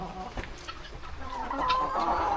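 Chickens cluck on a farm in the rain, with soft scattered clucks building to a louder, more sustained call near the end, fairly close, with other farm animals around.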